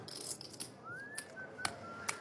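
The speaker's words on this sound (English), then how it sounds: "the old play it cool by whistling routine works every time." Someone at a poker table whistles a short rising-then-steady tune, faint and thin over the room murmur, punctuated by a few sharp clicks of chips.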